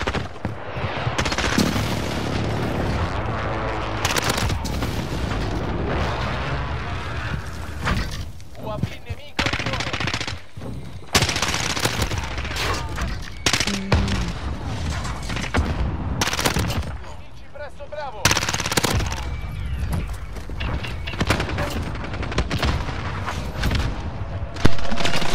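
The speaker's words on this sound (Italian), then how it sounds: "Bombardamento di precisione alleato in arrivo." Allied precision airstrike bombardment in Modern Warfare (2022): sustained loud gunfire and explosive booms rolling continuously, with brief dips between heavy bursts.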